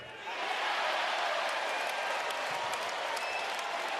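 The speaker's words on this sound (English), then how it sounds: "his bench guys giving him a little sarcastic applause." Applause from the bench at a Big 12 men's college basketball game between Colorado and Utah rises quickly and holds steady as a dense clapping wash with crowd murmur, no voices over it.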